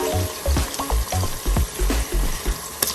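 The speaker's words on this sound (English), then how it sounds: "I'm going to add the chopped onion." Chopped onion and three green chilies frying for veg dum biryani, a steady close sizzle broken by scraping stirs of a spoon in the pan, no talk.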